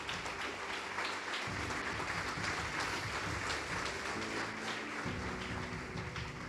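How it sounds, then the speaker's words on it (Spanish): Congregation applauding during a Spanish-language church service, continuous mixed clapping throughout at even loudness with a low hum underneath, no voices standing out. "Aplauda fuerte al Señor."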